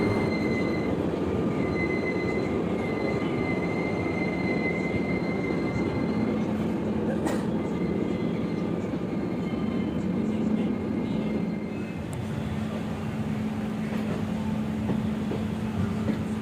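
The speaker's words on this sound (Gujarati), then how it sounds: "આપણી ટ્રેન 10:32 રાજકોટ પ્લેટફોર્મ નંબર 1 ઉપરથી નીકળી ગઈ છે" Onboard the 22906 Okha SF Express pulling out of Rajkot platform 1 toward Jamnagar, a steady close rumble of rolling coaches carries high wheel squeals and a sharp clank partway through.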